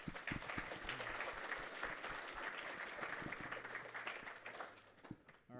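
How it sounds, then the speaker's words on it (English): A church recovery-meeting audience applauds steadily for several seconds, dense clapping with a low hum beneath, then fading out at the end. "So let's clap for her."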